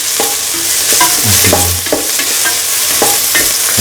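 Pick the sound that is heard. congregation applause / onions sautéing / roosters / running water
onions sautéing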